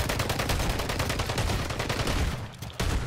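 Rapid shotgun and automatic gunfire from a Call of Duty Warzone battle royale match on Rebirth Island, a dense, loud barrage of overlapping shots running continuously with a brief dip near the end.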